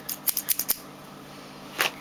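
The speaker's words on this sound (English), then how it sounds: "And I have some scissors." Quick scissor snips, five in a rapid run, then a pause and a single final cut; crisp and close with no talking.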